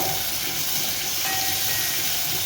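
Loud, steady sizzling hiss of curry leaves frying in hot oil, continuous and close, with no pauses.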